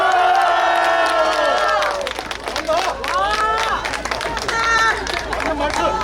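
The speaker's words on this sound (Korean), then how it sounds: "박수!" Crowd at a political rally at a market in Suncheon cheers and claps loudly, with many overlapping voices shouting over a steady roar of applause throughout.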